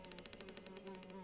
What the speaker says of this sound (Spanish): Bichos, porque estamos en el bosque, claro.